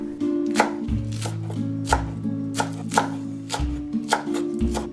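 A knife chops fresh chives on a cutting board in steady, crisp strokes, close and clear, roughly two to three cuts per second with no talking.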